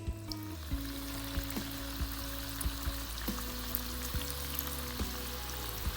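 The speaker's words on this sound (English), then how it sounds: "now we will go with the last step of frying the batata vadas" Batata vadas deep-frying in hot oil in a kadai over a medium gas flame, a steady soft sizzle and crackle with faint periodic clinks and a low background hum.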